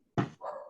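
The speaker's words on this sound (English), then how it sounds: "I need to shut up a dog." A dog gives one sharp bark followed by a shorter, higher whining yelp, close to a microphone during an online public meeting; no one speaks over it.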